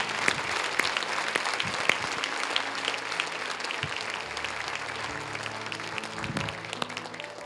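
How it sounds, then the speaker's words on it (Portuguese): A church congregation applauds during a worship service, with continuous clapping and a few sharper, closer claps and faint low background sounds running beneath it for the whole stretch. "Vamos aplaudir, celebrar o Senhor na dignidade."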